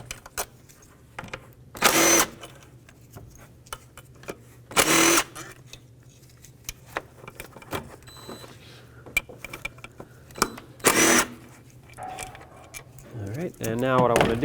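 Tools work on 10mm throttle body bolts on a 2003-2009 Toyota 4Runner, with several short bursts of a power tool or ratchet between quieter clicks and metallic handling noises.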